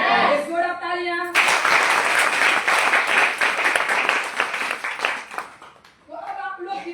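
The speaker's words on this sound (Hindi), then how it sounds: "एक जोड़ा तालियां।" An audience at a health and product seminar breaks into steady, full clapping that swells for several seconds and then fades, with someone speaking just before and again right after.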